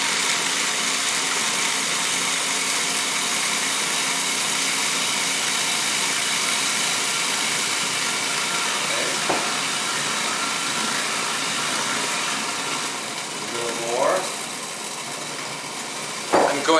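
Food processor running steadily while it blends chive pesto, a constant motor whir held for about fifteen seconds. A few brief knocks and a short squeak come near the end.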